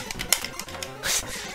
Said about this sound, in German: Man hört bestimmt die ganze Zeit dieses Klicken.